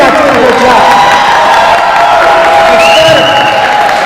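Loud audience applause and cheering at an event, a dense sustained roar of clapping mixed with whoops and shouting voices, filling the whole stretch without pause.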